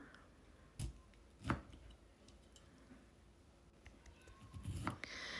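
Hot, peeled cooked beetroot being chopped with a knife, a few soft, dull knocks on the board, two close together and then another after a pause, faint and near.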